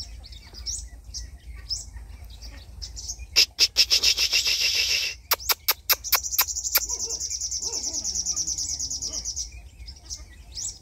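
Caged sunbirds sing in high, rapid chirps and trills, with a sharp burst of repeated clicks followed by a sustained buzzy trill, set against a low steady background hum.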